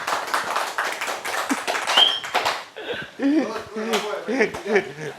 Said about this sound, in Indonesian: Tepuk tangan buat Bang Boy ya